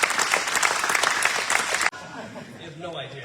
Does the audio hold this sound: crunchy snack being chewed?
no